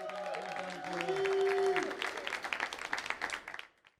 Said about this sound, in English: really big round of applause